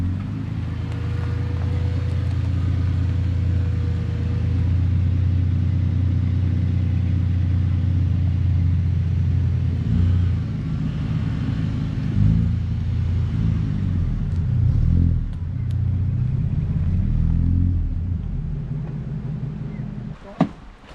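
A four-wheel drive vehicle eases along an overgrown track in the Victorian High Country with a steady low engine rumble, bumps and creaks and a sharp knock near the end.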